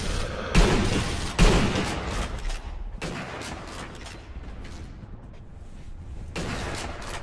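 Gunfire in the sniper shooter game Sniper Elite V2, a few sharp booming shots and bursts separated by stretches of rumbling battle ambience, fairly loud and close.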